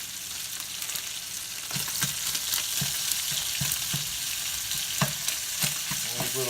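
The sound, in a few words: little sausages frying in a pan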